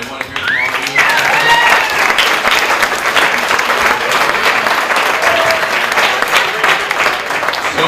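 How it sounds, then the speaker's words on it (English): Wedding reception guests at a Greek-Hawaiian wedding break into loud, sustained applause mixed with cheers and whoops, a crowd close by clapping steadily throughout. "We have to give them a round of applause."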